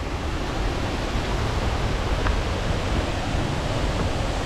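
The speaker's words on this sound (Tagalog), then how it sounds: "Ang taas din pala ng falls." Malabsay Falls at Mount Isarog, a tall waterfall heard as a dense, unbroken roar of falling water that stays loud and even throughout.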